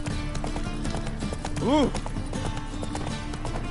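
Geralt's horse Roach galloping in The Witcher 3 video game, steady hoofbeats under game music with a brief tonal swell midway, and a person briefly exclaiming.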